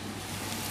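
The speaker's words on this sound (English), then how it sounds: "you're going to give that a stir for me" Rice is stirred in a pan with a black spoon during a junior cookery session, a short soft scrape over a gentle sizzle with a brighter clatter at the end.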